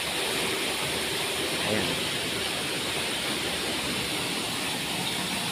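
A waterfall at Catandayagan Falls in Bartolabac, San Jacinto, Masbate fills the air with a loud, steady, broadband roar that never lets up. A voice speaks briefly over it.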